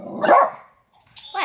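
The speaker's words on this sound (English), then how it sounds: "That's just my dog." A pet dog barks once loudly and close at a home, followed by a short pause and the start of another bark; a voice briefly asks something.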